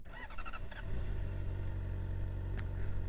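A 2015 Honda CBR 600rr sport bike fires up with a few rapid starter pulses before settling into a loud, close, steady idle, with a sharp blip near the end and no voices.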